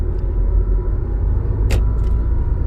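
A car engine runs during a driving lesson, a steady low rumble close by with one brief hissing burst midway.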